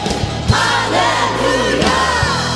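A worship congregation at a gospel praise service shouts for joy together, a continuous loud mass of voices with rising and falling cries over steady music.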